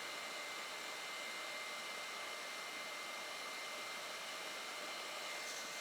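Hair dryer running on medium heat with the fan on low, used to heat-style a synthetic wig; a steady, even broadband whoosh holds unchanged from start to finish with no talking.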